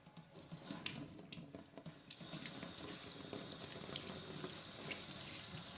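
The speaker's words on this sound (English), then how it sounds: "So in here in my sink I've got some aloe vera here that I'm going to be washing." Tap water runs steadily into a sink as aloe vera leaves are rinsed beneath it, a continuous splashing flow with small shifting gurgles, close and fairly quiet.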